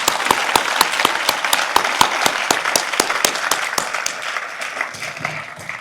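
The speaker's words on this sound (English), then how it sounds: "everybody give a round of applause to all these people" Audience at a law school celebration gives a round of applause, a steady crowd patter topped by one nearby pair of hands clapping sharply in a regular beat, fading toward the end.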